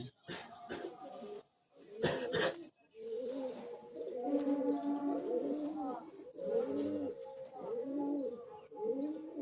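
Old Madras pigeons coo close by in steady, overlapping throaty phrases, preceded by a few sharp handling bumps and rustles at the start.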